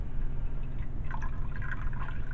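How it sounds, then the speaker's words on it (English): Melted soap base pours gently from a container into a mould, a steady close liquid stream with faint dripping and no talking. "And I am going to gently pour this down"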